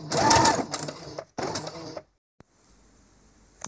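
An overlocker serger runs across a T-shirt collar in two close, loud bursts of rapid mechanical whirring, separated by a brief pause, then stops and leaves near silence with one small click.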